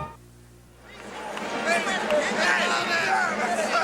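Partisan home crowd at a DePaul Blue Demons basketball game at the Rosemont Horizon, Illinois: a quiet start, then loud arena chatter and roar swelling and holding, with a commentator talking over the din.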